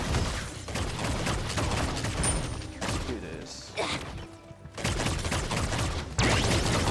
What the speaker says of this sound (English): How is he shooting that much that quickly?